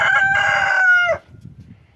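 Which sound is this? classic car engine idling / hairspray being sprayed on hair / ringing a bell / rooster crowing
rooster crowing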